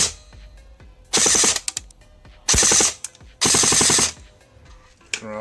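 Airsoft gun with a T238 TPA brushless motor on a 7.4V battery fires three loud, close full-auto bursts of rapid mechanical rattling, each about a second long, separated by short pauses.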